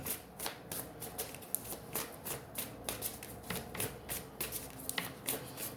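Tarot cards shuffled by hand in a quiet room, a rapid series of crisp riffling flicks repeating in short bursts throughout, close and fairly soft.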